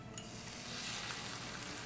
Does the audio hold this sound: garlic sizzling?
yes